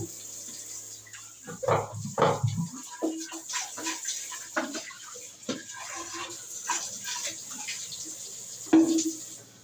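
A household water purifier filter is rinsed under running water from a tap, with irregular splashing and gushing bursts that rise and fall close by, and no talk.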